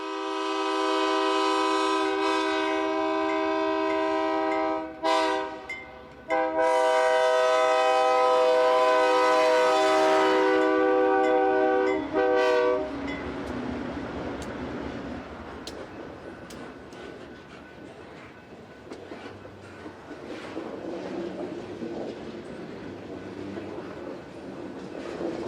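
A Minnesota Commercial Railroad freight train led by classic GE Dash 7 locomotives passes near Roseville, its loud multi-tone horn blaring for about twelve seconds before giving way to rumbling cars and rail noise.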